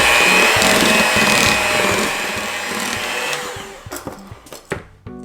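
An electric hand mixer beats brownie batter in a home kitchen with a loud, steady whir for about three seconds. It then stops, and a few scattered clinks and knocks follow.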